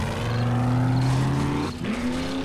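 A truck crossing open country in 7 Days to Die, its engine droning loudly and steadily with a rising whine, then a brief dip and jolt near the end before the motor resumes.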